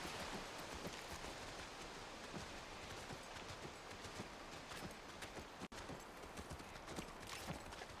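Steady, faint hoofbeats of a horse galloping in The Last of Us Part 1 clip-clop in an even rhythm throughout, over a hiss of background noise.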